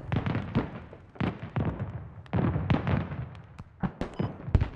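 Artillery shells burst in rapid, rumbling succession in the military game Squad, a dense run of explosions and booms at moderate distance.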